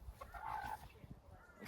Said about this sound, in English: Here's the little rooster.